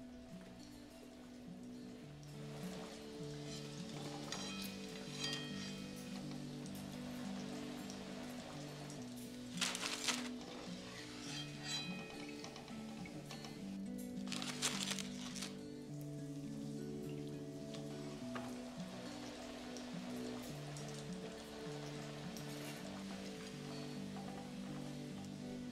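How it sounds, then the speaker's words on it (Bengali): Vegetable chops deep frying in low-to-medium hot oil, a soft steady bubbling sizzle with a couple of louder bursts as pieces are added or turned, no speech. "এবার একে একে আমি এই ভেজিটেবল চপগুলোকে ভালো করে ভেজে নেবো"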